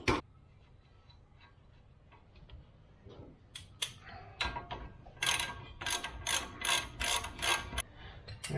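A socket ratchet clicks as a nut is threaded onto a Land Rover Discovery 3 front suspension knuckle, starting with sparse ticks and then quickening into a close, steady run of rapid clicks without talk.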